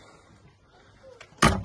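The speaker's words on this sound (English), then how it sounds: "Door." Faint rustle, then a sudden sharp clunk of a door being opened, close and brief.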